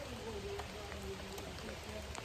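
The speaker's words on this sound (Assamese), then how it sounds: "দেখিছে বৰষুণ, কিমান বৰষুণ দিয়ে, মধ্য বৰষুণ দিছে" Moderate rain falls steadily over an open farm field, a soft continuous patter with occasional distinct drops. It is faint and even throughout, and a voice is faintly present underneath.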